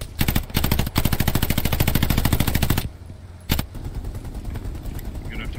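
Enemy machine gun fire in the World War II shooter Hell Let Loose: fast, loud, evenly spaced automatic bursts that stop abruptly, followed by a single sharp shot and a lower battlefield rumble.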